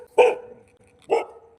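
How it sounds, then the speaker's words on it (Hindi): Two loud dog barks close by, separated by a short pause, with quiet in between. "वो मेरे को भौंक रहा है"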